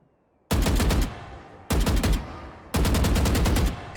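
Three loud bursts of Vandal rifle fire from the video game Valorant, each a rapid string of close, sharp shots lasting about a second, separated by short pauses.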